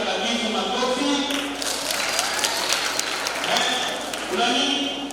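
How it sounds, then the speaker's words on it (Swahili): A church crowd of children preparing for First Communion, in a parish in Kijenge, Arusha, breaks into sustained applause, dense and fairly loud, with clapping that swells and dips over several seconds and voices mixed in. "makofi."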